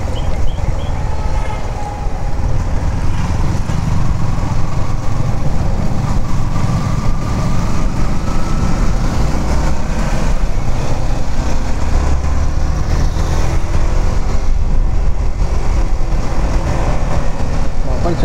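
A 2024 Yamaha R15 V4 motorcycle engine hums steadily while riding, a loud, constant drone mixed with rushing wind, close and unbroken for the whole stretch, with a rider's voice faintly beneath.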